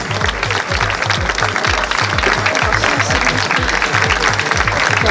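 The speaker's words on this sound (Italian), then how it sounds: "prego, un applauso per lei" An audience at a Miss Italia Veneto beauty pageant event applauds warmly, steady dense clapping throughout, with music beating underneath.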